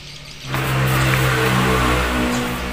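A Suzuki Satria Hiu motorcycle engine starts up and runs at a steady, loud idle close by, a buzzing harmonic drone that swells after half a second and holds.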